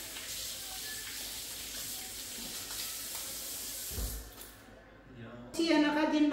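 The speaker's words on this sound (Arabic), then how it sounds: "غسل يدي" Tap water runs steadily over hands at a sink with a soft, even hiss, then cuts off near the end as a brief clatter follows.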